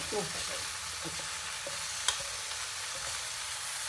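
Potatoes with masala in a no-onion, no-garlic vegetable dish sizzling steadily in a pan while a spoon stirs and scrapes with a few soft clinks, close and moderately quiet.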